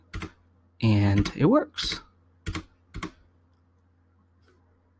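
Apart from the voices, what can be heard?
computer keyboard shift key presses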